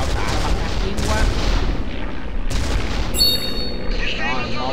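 Warships fire their guns in the naval battle game Battle of Euro, a loud near-continuous barrage of booming cannon shots with rapid bursts and ringing tones, while someone talks over the gunfire.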